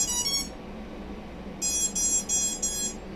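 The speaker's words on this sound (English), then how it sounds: "when I plug my ESCs in, normal series of beeps" A racing drone's ESCs play their startup beeps: a short burst of quick, high tones, a pause, then four more rapid beep groups, faint over a low background hum.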